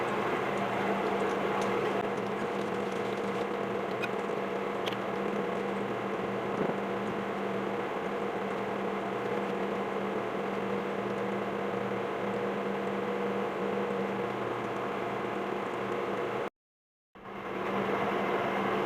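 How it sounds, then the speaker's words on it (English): A kitchen fan runs while salmon patties cook, a steady loud mechanical hum with a constant tonal drone that holds unchanged, then briefly cuts out near the end before returning. "Turn my fan off too"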